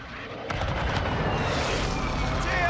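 An airstrike explosion in Call of Duty: Modern Warfare II strikes a JLTV and rolls into a sustained, heavy rumbling boom that swells after a sharp onset and keeps building, with no one talking over it.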